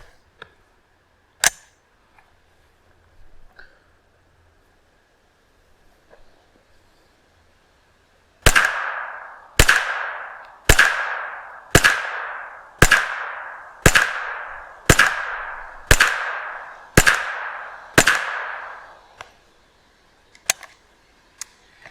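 Gunshots from a Kriss Vector CRB firing Minimag cartridges outdoors, a string of about ten loud, sharp cracks at a steady, unhurried pace, with a couple of isolated shots before and after.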